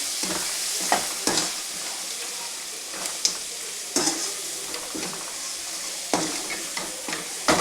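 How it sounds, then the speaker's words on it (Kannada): Mutton fries with chili powder in a pan, a loud continuous sizzle broken by repeated scraping and clinking of a spoon stirring against the metal. "ಒಂದು 5 ನಿಮಿಷ ಚೆನ್ನಾಗಿ ಮಟನಲ್ಲಿ ಖಾರ ಪುಡಿ ಎಲ್ಲ ಫ್ರೈ ಆಗಲಿ"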